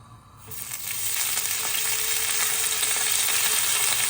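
Bluefish (çinekop) fillets hit a hot pan and sizzle, the frying starting loud and crackling within the first half second and holding as a steady, close hiss to the end.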